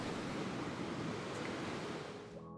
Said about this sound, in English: watching this crashing surf